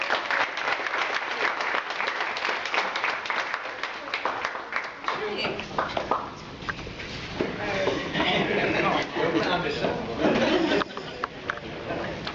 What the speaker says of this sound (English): Let's give a round of applause to our new member